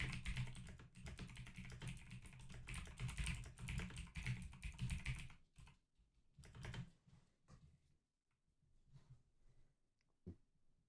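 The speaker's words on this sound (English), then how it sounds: "Sorry, I was typing there." Fast, steady typing on a computer keyboard at a day-trading desk, close and continuous for about five seconds, then thinning to scattered keystrokes and clicks over a quiet background.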